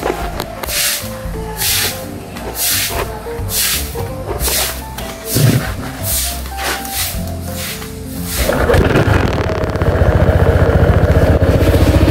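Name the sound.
vehicle engine running after being started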